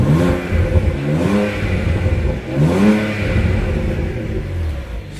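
BMW Z4 35is engine revving close by, a loud throaty rumble that climbs and falls in several repeated blips, heard alone without talk.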